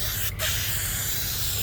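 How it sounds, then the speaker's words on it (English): A rattle can of spray paint hisses steadily and close up as it coats a 1985 C4 Corvette, one continuous broad spray with a tiny break near the start and no voices. "And we'll keep spraying this."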